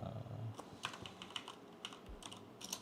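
Soft clatter of keys on a computer keyboard during coding, a quick irregular run of light taps, faint and close with no talk.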